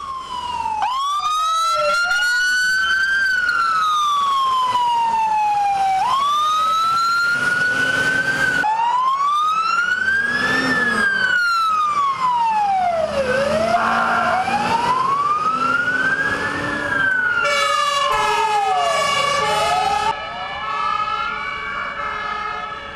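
Fire engine sirens wail loud and close through city streets in Velenje during an afternoon firefighter drill, several rising and falling tones overlapping continuously with a second siren joining near the end, no talk.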